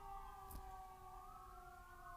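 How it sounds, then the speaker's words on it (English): Emergency vehicle sirens wail outdoors, a steady wavering tone with harmonics held throughout, moderately distant and unbroken by talk. "There were some sirens like 5 minutes before I started recording, so I didn't expect to hear them again this soon."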